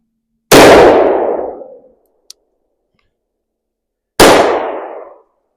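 Taylor & Co .357 revolver firing a .357 round and then a .38 round at a range, two loud sharp reports about four seconds apart, each with a short ringing decay, plus a faint click between.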